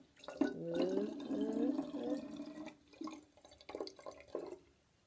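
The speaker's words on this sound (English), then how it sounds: "we're going to pour some water into it" Water poured into a container for a home water-based science experiment, a continuous splashing, gurgling stream for about three seconds, then a few short trickling pours and drips close by.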